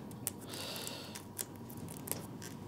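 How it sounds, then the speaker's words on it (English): The plastic bag holding a Raspberry Pi 3 case is torn open with a steady crinkling rustle and a few sharp crackles. It is close, quiet and continuous, with no speech. "it's simply a case of uh, ripping the bag and opening it"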